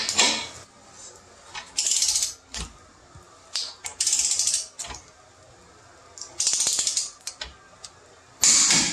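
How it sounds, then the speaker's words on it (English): Jeep Wrangler lift bolts are tightened to 65 foot-pounds with a torque wrench, giving bursts of close metallic ratcheting and clicks separated by quiet gaps. "Once you have both sides on, then you'll torque these down to 65 foot-pounds."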